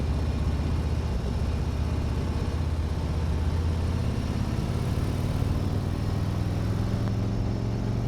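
A Harley-Davidson motorcycle, a Fat Boy, Road King or Ultra Limited, rumbles steadily with engine and exhaust noise while being ridden, a continuous low, dense drone with no pauses.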